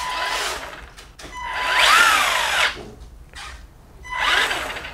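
A Tamiya RC car motor, run through an electronic speed controller, whines up and down in three rising and falling bursts, close and fairly loud, with quieter gaps between them.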